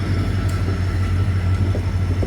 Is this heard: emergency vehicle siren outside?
no